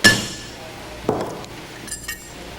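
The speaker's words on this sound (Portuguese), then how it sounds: "Para a retirada do garfo, nós vamos utilizar um punção e um martelo." A hammer strikes a punch to drive out the fork of an automotive starter motor, giving one sharp metallic clink followed by a second strike and a couple of lighter taps.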